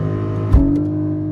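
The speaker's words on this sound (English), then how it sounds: "We're gonna go into launch control." Porsche Cayman GTS 4.0 with 400 hp and PDK gearbox launching hard from a standstill, a sudden loud engine surge rising into a sustained close roar.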